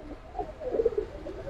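A single pigeon, a club-tagged 2023 bird held up for sale, gives soft low cooing notes, close and faint, with no talk over it.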